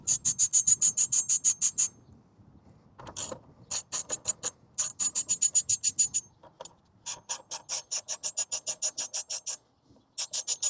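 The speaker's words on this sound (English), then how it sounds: "Use my ratchet." A ratchet turns a 5 mm bolt on a 2025 Honda CRF300L Rally motorcycle, clicking in quick repeated runs of strokes with brief pauses between, close up and alone.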